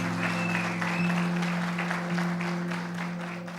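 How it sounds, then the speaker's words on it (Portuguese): Applause from a church audience during a sermon, continuous clapping over a steady low hum of organ or keyboard tones, with no speech. "Dá uma salva de palmas para Jesus"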